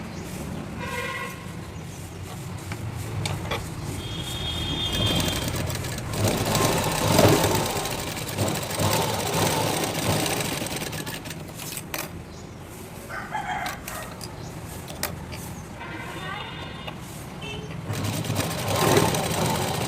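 A sewing machine stitches a joint on a garment's sleeve, running in bursts with pauses and handling noises between, loud and close, with a rooster crowing in the background.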